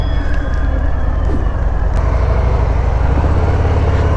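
A 2020 Harley-Davidson FXDR on a test ride gives a steady, loud engine drone with a deep low rumble and wind roar, continuous and close throughout.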